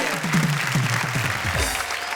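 Audience applause at a Hindi comedy show, a steady wash of clapping under a voice that runs through most of the moment.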